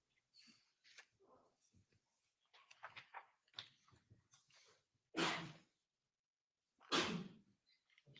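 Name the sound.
sneeze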